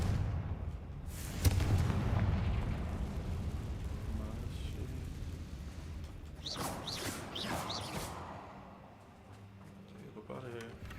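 Fiery spell explosions in the Hogwarts Legacy video game: a loud booming burst near the start, then crackling blasts and whooshing bursts later, with voices talking over the game audio.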